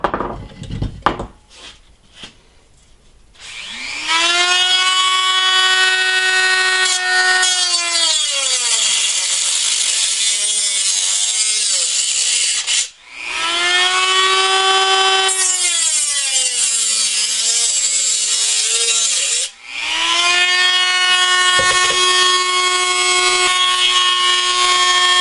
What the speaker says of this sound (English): I'm going to take my Dremel and cut around the can